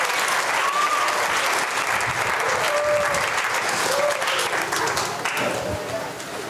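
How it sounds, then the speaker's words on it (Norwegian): Steady theatre audience applause for the actors, a dense continuous wash of clapping with cheering voices mixed in, holding strong before easing slightly toward the end. "Og da må vi gi en applaus til disse fantastiske skuespillerne."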